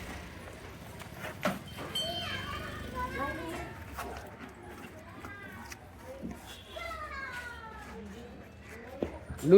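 Young goat kids bleat repeatedly in short, wavering cries, several overlapping at close range in a goat and sheep pen, with people talking nearby.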